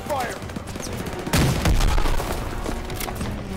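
Gunfire in the Call of Duty WW2 video game: dense overlapping rifle and machine-gun bursts with a heavier boom in the middle, loud and close, with voices shouting under the shooting.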